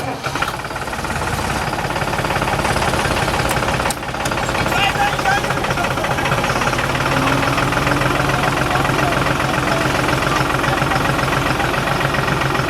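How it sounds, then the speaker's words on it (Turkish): A tractor engine idles loudly and steadily, a dense knocking diesel rumble with a brief dip early on, filling the whole clip. "Ben de traktör çalıştırayım."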